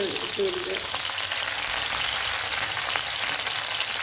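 Six or seven garlic cloves, a small piece of ginger and a green chili fry in hot oil for a capsicum and egg curry, a steady, loud, close sizzle throughout with no talking.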